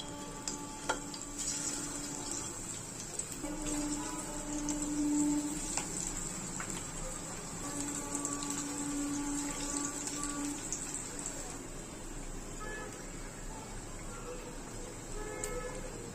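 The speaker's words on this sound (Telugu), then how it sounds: "మనం ముందుగా మ్యారినేట్ చేసి పెట్టుకున్న చికెన్ ని ఇలా పకోడీలాగా వేసుకుందామండి" Marinated chicken pakoda pieces deep frying in hot oil, a steady, even sizzle and bubbling that runs continuously at moderate volume with no talking.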